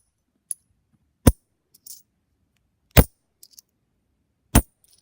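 Silver quarter dropped onto a hard surface, three separate bright metallic impacts spaced over a few seconds, each a short ring with faint small rattles between, in a quiet room.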